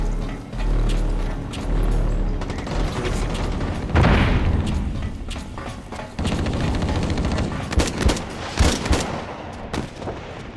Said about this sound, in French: C'est la première fois que j'utilise le pistolet.